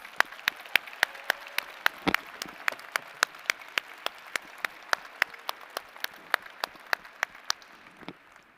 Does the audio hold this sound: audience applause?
yes